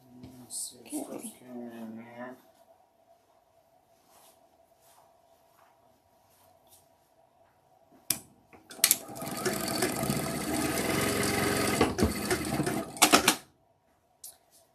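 A sewing machine with a thread cutter and pre-wound bobbins stitches in a steady mechanical run lasting about five seconds, then stops abruptly. A voice talks briefly at the start, before the machine runs.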